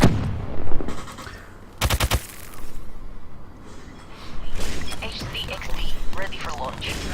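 Gunfire rings out in a shooter video game, with a tight burst of rapid automatic shots and scattered sharper cracks. A player talks over the action in between the bursts.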